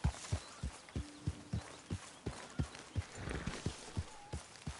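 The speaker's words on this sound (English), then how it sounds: "Hey, get that horse out of here!" A horse in Red Dead Redemption 2 moves at a steady walk, its hooves clip-clopping in a regular beat of about a dozen close, crisp steps with faint ambient sounds behind.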